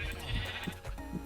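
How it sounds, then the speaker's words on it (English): Sheep in the Minecraft video game give several short overlapping bleats in quick succession, close and clear against a faint background. "And I also gathered some sheep, which I really don't need these sheep anymore."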